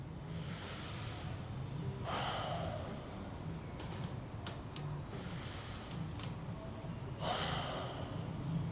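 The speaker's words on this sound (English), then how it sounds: "please take 2 bigger breaths right before your final breath" Freediving breathe-up before a static apnea hold: two big, close, noisy breaths drawn through the mouth, each a rushing inhale-exhale, then a final deep breath after a pause.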